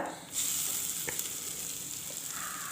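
Freshly grated coconut roasts lightly in a pan over a stove, giving a soft, continuous sizzle and crackle close by, with a faint stir or scrape partway through.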